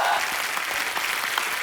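A studio audience claps loudly to welcome actress Huma Qureshi onto a television comedy show, a dense, steady wash of applause filling the whole moment.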